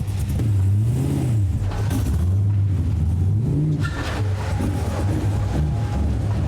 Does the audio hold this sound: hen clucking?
no